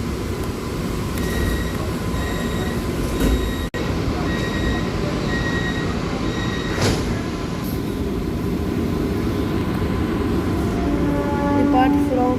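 An AC slow local train pulls out of Santacruz station in Mumbai, heard from inside as a steady loud rumble of wheels and motors, with faint wheel squeal rising near the end.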